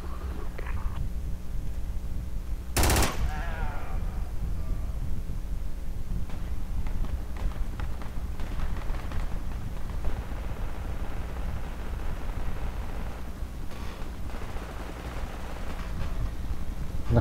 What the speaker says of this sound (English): The firing burst.